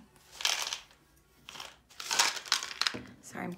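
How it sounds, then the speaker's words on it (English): Wiping off the lid of an art supply container gives irregular rustling, crinkling swipes in several bursts, fairly close and moderately loud. "Sorry, I'm cleaning off my lid there."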